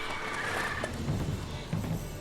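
Roach, a horse in The Witcher 3, lets out a quick whinny, followed by soft hoof clops and faint shuffling under low in-game ambience.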